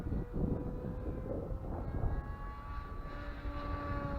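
A Hobbyking Vampire RC plane with an NTM 2836 motor and a 7x6 propeller drones overhead in flight, a steady engine whine with a shifting pitch over outdoor background noise.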